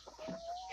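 A chicken clucks softly nearby, a short burst of low throaty bird calls, fairly faint with no other sounds.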